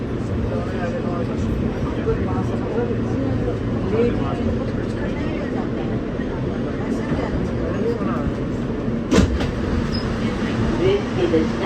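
An R160 E subway train runs steadily on the F line toward 2nd Avenue, a constant loud rumble and rattle from inside the car with faint clatter and a brief clank near the end, while a recorded voice announces over it.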